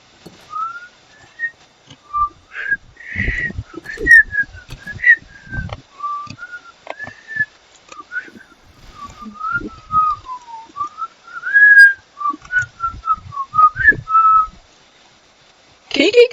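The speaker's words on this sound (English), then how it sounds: "Can you get copyright struck for whistling a song?" A person whistles a song in a clear, close melodic line of sustained and sliding notes. The phrases are broken by short gaps, and a few low knocks and bumps sound underneath.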